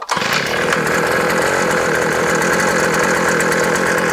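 A Garden Trax gas auger engine, primed and set to choke, fires up and runs at a steady, loud, buzzing high-revving drone close by, with no talking.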